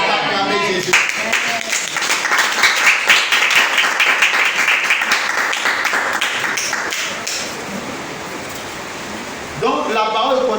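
Crowd applause and clapping from a church congregation acclaiming Jesus during a French-language sermon, a dense sustained wash of claps over about nine seconds that thins out before a voice returns at the end.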